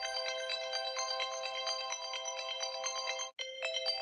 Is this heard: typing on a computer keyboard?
no